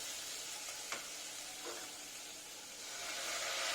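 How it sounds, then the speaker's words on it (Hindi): Steady frying sizzle from a pan of Sindhi Sai Bhaji as tomatoes go in, with a couple of brief stirring clinks and a hiss that swells slightly toward the end; no one speaks. "अब इसमें हम ऐड कर देंगे टमाटो।"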